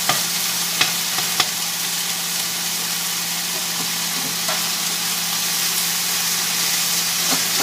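Chicken fries in a stainless steel pan with a steady, bright sizzle throughout, broken by a few sharp clicks and taps of a utensil near the start.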